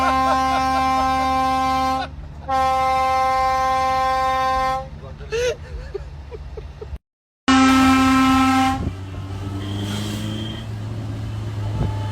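Car horns at a car fair in Manisa sound in long sustained tonal blasts, several separated by short breaks, with a brief silent gap and a fainter horn near the end amid background chatter.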